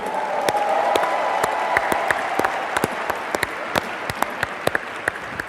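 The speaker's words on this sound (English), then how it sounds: "How about a big round of applause for our corporate team?" An audience at a Nu Skin corporate event applauds the corporate team, broad clapping that starts full and thins out into scattered loud individual claps near the end.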